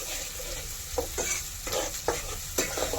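A ground onion-coconut and sesame-coriander paste fries in oil in a pan on a village wood-fired stove, giving a soft continuous sizzle, while stirring strokes scrape through it roughly every half second and no one speaks.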